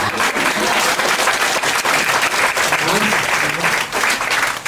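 Sustained audience applause at a seminar fills the whole stretch, a dense, loud wash of many hands clapping at once with faint voices underneath.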